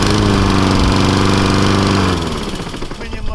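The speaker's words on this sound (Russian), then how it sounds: "Ну, у нас есть такая газонокосилка." A lawn mower runs loud and close at an apiary yard, a rough steady engine roar that eases slightly toward the end.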